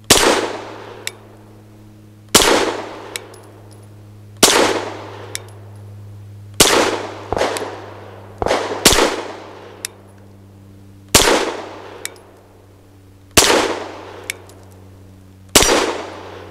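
Caracal Enhanced F pistol firing 9mm rounds at steel targets outdoors: about a dozen sharp, loud shots at an uneven, unhurried pace, some followed by faint metallic pings of hits on steel, over a low steady background hum.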